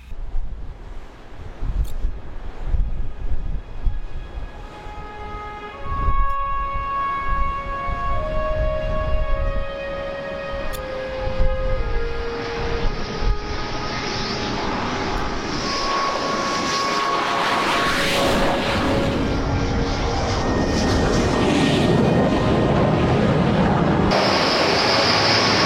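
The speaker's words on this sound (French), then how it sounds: "Les exercices de catapultage et d'appontage ont continué ainsi pendant plusieurs jours" Rafale Marine jets operate on an aircraft carrier during catapult and arrested-landing exercises, a loud sustained jet engine roar with shifting whining tones that swells steadily stronger, with no talking.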